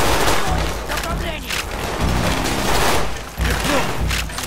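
Rapid gunfire in Call of Duty Black Ops, loud bursts of shots clustered close together over a battle din, with a player talking between the volleys.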